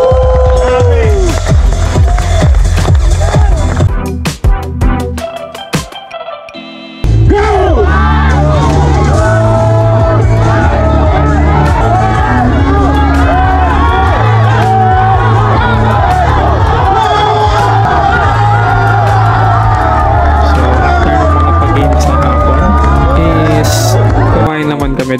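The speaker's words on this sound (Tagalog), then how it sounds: "magarbong palakpakan na may kasama sigawan para sa SEC Moto Supply" Loud crowd cheering, shouting and whooping for SEC Moto Supply at the Aerox Club Philippines Grand Summer Ride 2024 in Cavinti, Laguna, dense and sustained across the whole stretch apart from a brief dip in the middle.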